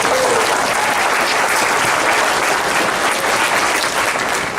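At a retirement community manager's town hall, an audience claps steadily, dense and continuous for several seconds, with no talk over it.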